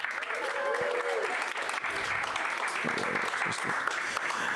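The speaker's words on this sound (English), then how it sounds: "give them a round of applause for showing up" Audience applause at a live comedy show: a sustained, fairly quiet wash of clapping from the crowd, with voices and whoops mixed in over the top.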